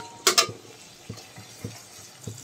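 A spoon stirs kalai lentils with spinach, garlic and onion in a cooking pan, giving soft, evenly spaced thuds after a brief sharp clatter near the start.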